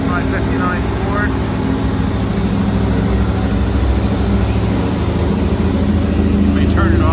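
The engine of a GMC Denali chassis runs at idle, a loud, steady, close rumble that holds continuously with a faint higher whine on top.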